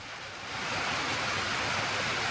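Rain falls steadily outdoors, a dense hiss that thickens after the first half second and then holds even and fairly loud, with no voices.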